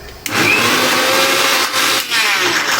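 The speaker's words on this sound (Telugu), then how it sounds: "మరొకసారి మిక్సీ వేసుకుందాం." A mixer grinder whirs loudly and steadily while blending raw banana into a paste, with one brief dip in the motor's drone partway through.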